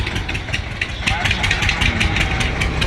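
A tractor engine idling close by, a loud steady rumble with rapid rhythmic knocking pulses throughout.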